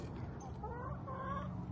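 A backyard chicken clucks close by. A short run of throaty, rising clucks sounds over steady low background noise.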